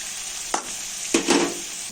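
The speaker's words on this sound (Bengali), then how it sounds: "কাঁচা লঙ্কা বাটা আর কাজু বাদাম বাটা দিয়ে দিচ্ছি।" Green chili paste and cashew paste hit a hot pan of frying palak paneer base, with a steady sizzle and a few sharp stirring scrapes close up, no talk.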